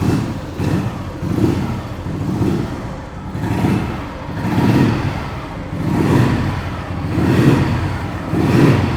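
A vintage Royal Enfield Bullet G2 with a heavy crank idles steadily, its thumping beat rising and falling in slow regular pulses, loud and close with no talk.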